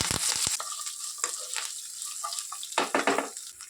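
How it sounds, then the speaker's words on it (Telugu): Dried red chillies and curry leaves sauté in a hot pan for a mint pickle, a close steady sizzle broken by a few sharp scraping stirs and crackles. "ఒక టూ త్రీ ఎండుమిర్చి ఫుల్ కరివేపాకు వేసుకొని ఒక వన్ మినిట్ సాటే చేసుకున్నాం"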